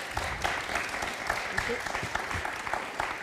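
An energy conference audience claps for two project managers, a fairly dense burst of applause with some voices mixed in underneath.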